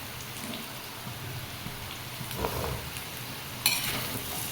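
Amla being stirred with turmeric and red chilli gives soft, scratchy, irregular scraping and rustling, fairly quiet, with a couple of sharper knocks toward the end and no talk.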